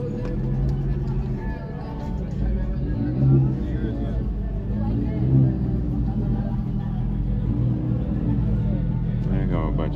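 A Honda car revs and accelerates at a car meet, a loud low engine drone with rising surges, voices talking over the rumble throughout.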